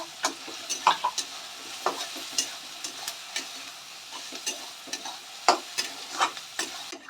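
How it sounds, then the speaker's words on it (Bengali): Onions frying in a pan for homemade Kolkata-style fish kachori, a soft continuous sizzle broken by sharp scraping strokes of a spatula stirring every half second or so. "তো এখানে পেঁয়াজ ভাজা হয়ে হয়ে এসছে"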